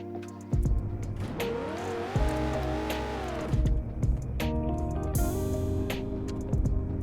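Car engine in a CDT racing video game revving up and down through gear changes, sharp rises and drops in pitch with brief bursts of tire noise, loud and alone without talking.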